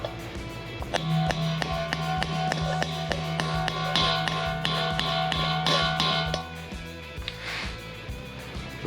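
Repeated sharp metallic hammer strikes driving a bearing race into a housing on a 12-bolt rear axle, evenly paced and fairly close, ringing over a steady low hum, then stopping.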